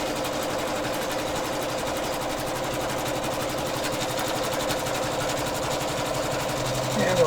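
A home embroidery machine stitches an applique with a rapid, even mechanical chatter that runs without a break, close and steady, with a brief rising whir near the end.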